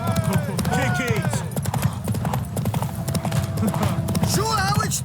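Horse hooves clip-clop at a steady galloping rhythm in The Witcher 3, with an occasional whinny, running continuously under an excited voice urging the horse on.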